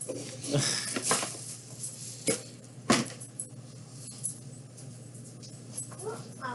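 A dog whimpers and yips faintly in short, scattered bursts, with quiet background noise and a few sharper knocks in between.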